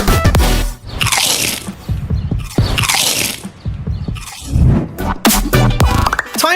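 Doritos chips are crunched in loud, close bites, each a burst of crisp crackling shattering, repeated several times with short pauses between, heard alone as a brand sound logo.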